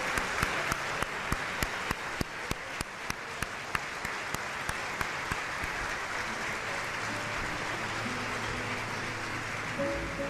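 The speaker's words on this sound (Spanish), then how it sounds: "Así que yo creo que la radio se merece otro aplauso de" Audience applause at a Martín Fierro radio award ceremony honouring a career in radio, a dense sustained patter of many hands clapping for about ten seconds, fairly loud and close, with no talk.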